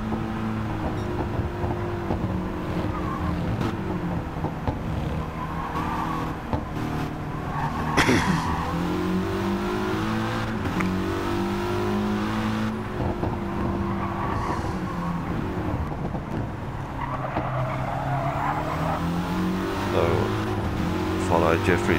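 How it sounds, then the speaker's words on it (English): Mitsubishi Lancer race car in a Gran Turismo 7 endurance race, engine note rising and dropping through repeated short upshifts with tire squeal and nearby cars, under steady commentary. "Like short shifting going on, bit of a bump draft from Deem up behind"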